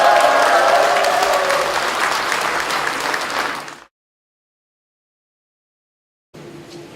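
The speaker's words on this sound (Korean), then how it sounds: "힘찬 박수와 열렬한 환호 부탁드리겠습니다." Loud crowd applause with cheering at a book launch event fills the first few seconds, then cuts to silence before a short burst of clapping resumes at the end.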